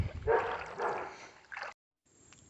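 A dog barks in a few rough bursts outdoors near a creek, with soft trickling water in between. Then it falls silent before a faint last sound.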